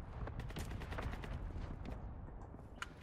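Rapid automatic fire from the FSS Hurricane in Warzone 2.0, a dense run of sharp shots that stays steady and loud for the whole stretch, with a single sharper crack near the end.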